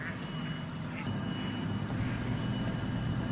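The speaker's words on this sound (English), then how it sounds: "the robot was shown to be capable of tracking towards a simulated cricket song over natural terrain" A simulated cricket song, played to an autonomous outdoor robot over natural terrain, chirps in regular repeating bursts over a steady low rumble of background noise.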